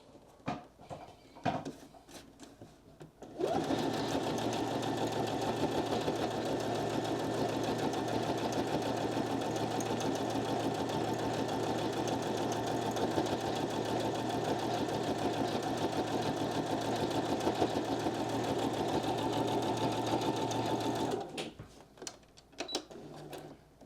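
A sewing machine stitches a fabric book cover sleeve, running as one steady, continuous whir of rapid needle strokes for about eighteen seconds before stopping, with a few faint handling noises before and after.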